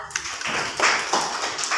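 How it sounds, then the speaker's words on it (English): A classroom of students claps for a classmate, a short burst of brisk, uneven hand claps from a small group, close and fairly loud, over in under two seconds. "Please clap for her."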